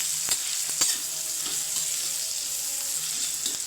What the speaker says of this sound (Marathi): कांदा टाकून त्याला छान प्रकारे परतून घ्या